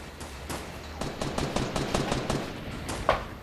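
Rapid gunfire in the video game Fortnite, a string of sharp shots in quick bursts with a louder crack near the end, fairly close and with no talk over it.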